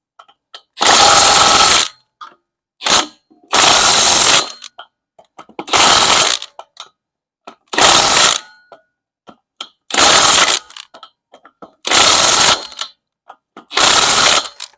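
A power tool torquing a bolt on a 1972 Monte Carlo, firing in seven loud repeated bursts of about a second each, separated by short pauses with faint clicks.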